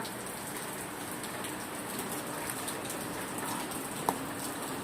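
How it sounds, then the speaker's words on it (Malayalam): Rain falls outdoors in a steady, soft, even hiss with no other clear sounds, apart from one small tap near the end. "അവിടെ നടക്കുമ്പോ മഴ നനയാൻ വരാം പുറത്ത്"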